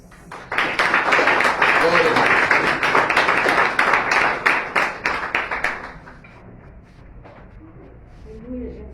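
A church congregation breaks into loud, dense applause that holds steady for several seconds and then thins into scattered claps before stopping, with a voice heard faintly near the end.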